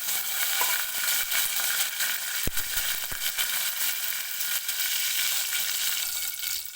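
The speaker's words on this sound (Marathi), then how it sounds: "लसूण हलकासा गोल्डन होईपर्यंत आपल्याला तेलामध्ये भाजून घ्यायचं आहे" Chopped garlic and curry leaves frying in hot oil in a tempering, a loud, steady close-up sizzle with a couple of sharp crackles partway through.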